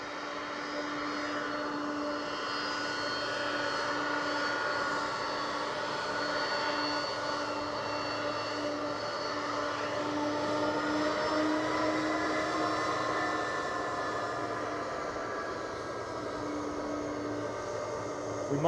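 A Delta jet airliner at Edinburgh Airport roars steadily from a distance for the whole stretch, a broad engine rumble with a whining tone that slowly shifts, sounding without voices.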